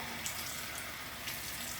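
Water trickles from a tap at low pressure while hair dye is being rinsed, a soft steady hiss with no pauses, quiet and close.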